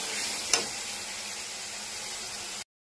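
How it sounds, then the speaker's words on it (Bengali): A steady, close hiss of spice paste sizzling in a hot pan while stir-fried, with a sharp clatter early on, then continuous frying until it cuts off. "এবার বেশ খানিকক্ষণ কষাতে থাকবো যতক্ষণ না কাঁচা গন্ধটা চলে যায়।"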